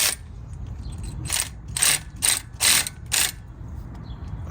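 A ratchet loosens a brake caliper bolt on a Honda Pilot during a front brake pad and rotor job, giving five bursts of rapid clicking in an uneven rhythm, close and fairly loud, with no talking.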